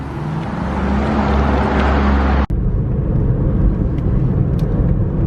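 A car drives on the road with a steady loud engine and road rumble, one of two cars heading to a garage during the rebuild of a Lexus LS460, the drone briefly cut midway before continuing.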